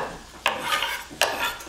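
Steady sizzling hiss of sausage frying in a pan, broken by two sharp clinks of a utensil against the pan.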